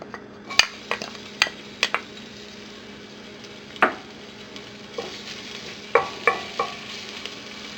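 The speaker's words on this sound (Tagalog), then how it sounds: "Once na mainit na yung cooking oil, isosotay na natin dito yung garlic." Garlic sautéing in hot cooking oil for tinolang tahong, a soft steady sizzle punctuated by sharp clinks and taps of a utensil against the pan, in irregular bursts.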